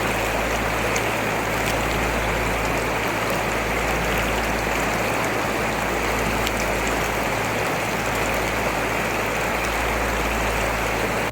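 Mountain stream of the Gagai Nala near Taobat Bala village in Kashmir, rushing water flowing loudly and steadily in a dense unbroken roar, close by and alone without voices.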